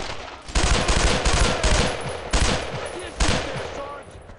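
Dense gunfire in the World War II shooter Brothers in Arms, loud bursts of automatic and rifle fire in rapid overlapping volleys, nearly continuous for several seconds.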